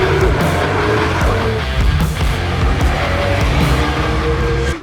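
A Porsche 992 GT3 on mountain roads near Monaco, its engine a steady, loud drone held throughout with shifting tones and a brief fade at the very end.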